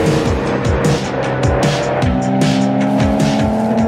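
An Audi TT RS or RS3 sedan with an inline five-cylinder engine driven hard, loud and close, with rapid gear changes, rising revs and tyre squeal throughout.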